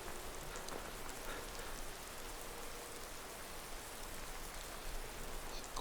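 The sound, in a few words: rain falling in the video game Skyrim VR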